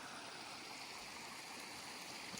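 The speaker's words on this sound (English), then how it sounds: "It's high water right now, creek's flowing really good." A creek running fast at high water rushes steadily at a distance, a faint, even wash of flowing water with no breaks.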